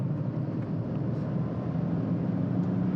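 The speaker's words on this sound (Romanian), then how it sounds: "Hai să accelerăm ușor." A Mercedes GLC Coupe with a 2.0 petrol engine and AMG package accelerates gently at around 70 km/h, giving a steady low engine drone under road and cabin noise, with no talking.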